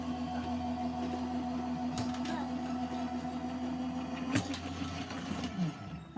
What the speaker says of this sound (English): we're going to pass it through the machine. We click on run and we just wait for it